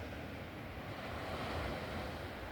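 Atlantic Ocean waves and surf rolling in a continuous, steady wash of broadband roar, with wind buffeting the microphone throughout and no talking.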